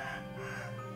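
Chickens kept as a hobby in a backyard cluck and crow, a steady, fairly faint sound with no talking heard.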